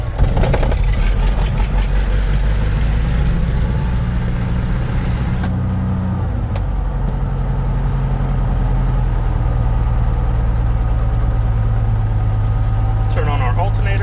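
Small aircraft piston engine cranking and catching, then settling into a loud, steady idle close by, with a voice heard over the engine noise.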